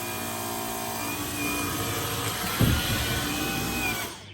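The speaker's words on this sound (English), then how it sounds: "let's vacuum up the rest of it with one pass" A Dyson V15 cordless vacuum cleaner runs on auto mode, a steady close high-pitched motor whine and airflow hum that rises briefly, then cuts off at the end.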